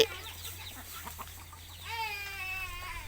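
Free-ranging chickens and ducks on a self-sufficient smallholding let out to forage on culantro give a near cluck and then a drawn-out rising call, loud against a steady background hum.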